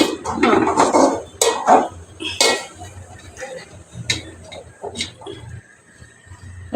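Taro stolons are tipped into a pan beside shrimp curry and stirred, with a loud clatter of a metal spoon against the pan, then softer scraping and clinks over a low frying hiss; faint voices appear briefly.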